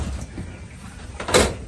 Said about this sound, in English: the door will still close